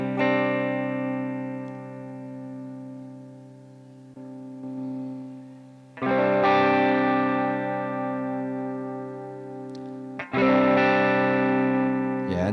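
An electric guitar played through a Valeton GP-50 multi-effects processor with a boost effect rings out in sustained, bright chords, each let ring and fading before the next loud strum, with a dip in level between.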